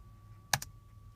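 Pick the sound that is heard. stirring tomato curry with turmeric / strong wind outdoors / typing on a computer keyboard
typing on a computer keyboard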